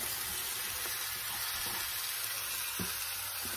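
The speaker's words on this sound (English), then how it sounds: "we're going to saute those around for just a minute" Chunks of steak sauté in a hot pan with a steady, crackling sizzle and occasional soft stirring knocks, close and continuous with no talking.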